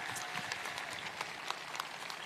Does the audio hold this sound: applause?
yes